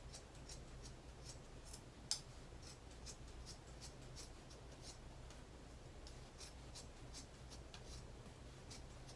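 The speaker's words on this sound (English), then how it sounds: "I want you to use fabric scissors only because it is way easier to cut through than regular scissors." Fabric scissors snip through chevron-patterned fabric for a no-sew pillow, giving a steady run of quiet, crisp cuts with one sharper snip standing out against a low background hum.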